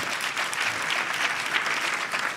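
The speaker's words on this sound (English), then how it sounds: "give Mitch a round of applause and the same round of applause for Johannes" Audience applause for speakers at a tech presentation event, a continuous steady wash of many hands clapping, fairly loud and even for a couple of seconds with no pause.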